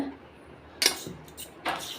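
Batter of wheat flour and semolina stirred in a bowl: two or three short scraping clinks of a spoon against the bowl, close by, with quiet gaps between.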